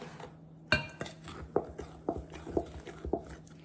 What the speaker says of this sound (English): you could take your scoop and just use it to put a little bit at a time. And go ahead and stir it in.